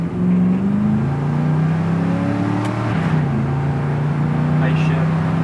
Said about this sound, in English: I'm going to try to go ahead and go through the gears once